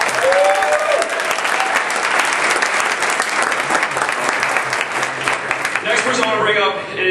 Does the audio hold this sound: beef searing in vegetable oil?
no